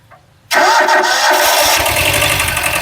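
A Kubota B7000 tractor engine starts abruptly after near silence, catching at once and settling into a loud, steady running rumble close by.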